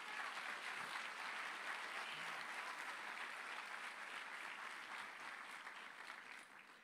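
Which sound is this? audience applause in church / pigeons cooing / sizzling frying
audience applause in church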